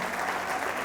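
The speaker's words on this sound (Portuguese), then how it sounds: "Você pode dar um aplauso a ele?" A church congregation breaks into applause during a service, a dense, even wash of clapping heard briefly at moderate level.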